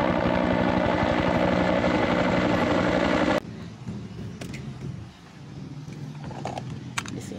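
A toy helicopter's buzzing, rapidly chopping rotor whir runs loud and steady for a few seconds, then cuts off abruptly, leaving quiet handling clicks and rustles.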